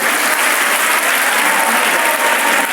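Loud, dense applause from a school audience at an Independence Day prize distribution, continuous clapping filling the whole stretch with no voices on top.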